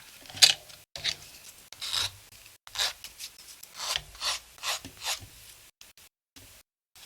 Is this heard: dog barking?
no